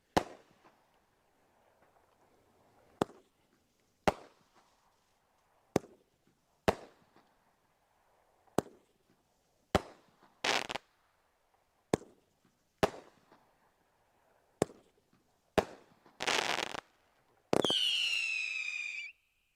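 A fireworks display goes off outdoors with a series of sharp, separate bangs spaced a second or so apart. Crackling bursts build toward the end and finish in a long whistling, crackling finale.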